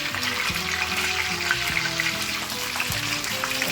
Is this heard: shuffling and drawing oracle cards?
no